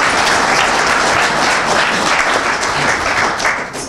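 A crowd applauds to welcome a guest at a meeting: sustained, dense clapping from a large audience, loud and close, steady throughout without a break.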